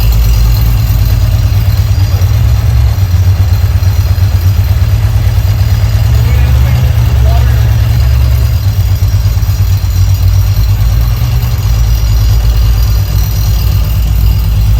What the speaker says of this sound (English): The alternator is making noises.